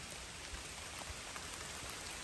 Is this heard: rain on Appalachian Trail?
yes